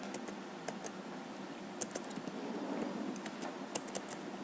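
Typing on a computer keyboard, faint and close, with scattered, irregular key clicks and small bursts over a quiet background, no talking.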